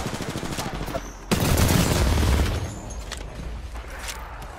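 Gunfire in the battle-royale shooter Apex Legends erupts suddenly into a dense, loud volley lasting over a second, followed by scattered fainter shots and sharp cracks over continuous game ambience.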